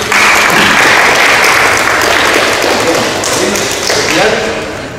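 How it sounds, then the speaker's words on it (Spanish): At a baptism celebration in Caranavi, family and godparents give loud, close applause, the dense clapping mixed with voices and a few thumps, continuing for several seconds. "daremos un fuerte aplauso por tu bautizado"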